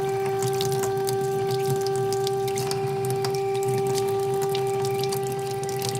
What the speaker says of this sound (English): Now a steady stream is coming out.